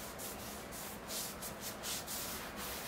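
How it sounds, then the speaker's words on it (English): A cloth rubs and wipes excess oil off a bonsai pot in quick, repeated close strokes, a soft scratchy swishing with no voices. "After you've oiled up your pot, it's a good idea to wipe down the excess."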